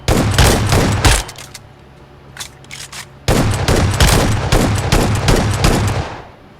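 Shotgun fire in a video game: loud rapid volleys of close blasts, a quieter gap with a few scattered shots, then another sustained run of rapid firing.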